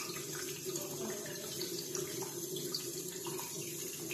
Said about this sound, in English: There's the water coming from here and it fills